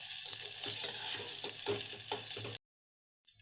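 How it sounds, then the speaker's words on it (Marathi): Ground masala paste frying and being stirred in hot oil for a spicy kat vada curry, a steady close sizzle with scraping spoon strokes, then an abrupt cut to silence before the sizzle briefly returns. "वाटण इथे छान असं तेलामध्ये परतू द्यायचं आहे"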